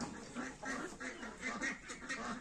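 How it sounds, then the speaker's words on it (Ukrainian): Several drakes quack in repeated bursts, fairly close, overlapping one another against a busy farmyard background. "Ось такі селезні."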